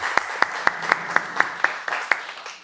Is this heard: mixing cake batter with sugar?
no